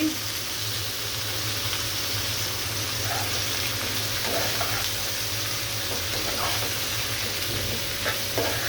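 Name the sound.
stir-frying shrimp, onion and bitter gourd in a pan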